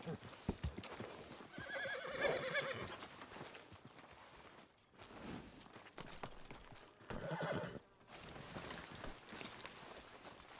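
In the video game Red Dead Redemption 2, a horse whinnies loudly twice amid rhythmic clip-clop hoofbeats, with a brief pause between bursts; close and fairly full, no talking heard.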